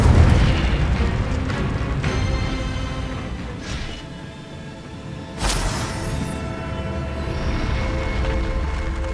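Fire spell blasts in the Hogwarts Legacy video game, loud booming bursts with rumbling roar, one sharp burst midway followed by sustained crackling rumble.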